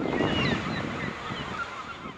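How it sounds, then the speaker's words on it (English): Seagulls squawk over Gloucester, a coastal fishing port on Massachusetts' north shore. Several scattered high calls ride over a steady wash of wind and surf. "The seagulls sail and squawk over Gloucester"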